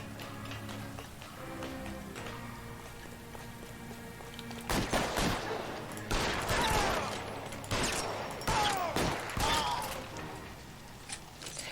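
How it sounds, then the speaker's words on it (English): Bursts of gunfire from the LA Noire video game crack out in a quick volley midway through, several sharp broadband shots over a quiet, steady background hum. "Shots fired. Suspect is down."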